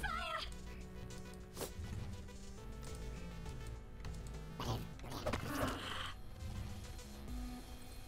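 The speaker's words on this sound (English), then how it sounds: "let's squawker drone this dude" Squawker drone in SotS: The Pit letting out harsh, gobbling squawks amid busy game noise, with sharp bursts and a rattling buzz, at a low overall level.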